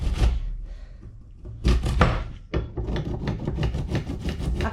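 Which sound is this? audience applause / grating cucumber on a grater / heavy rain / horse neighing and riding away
grating cucumber on a grater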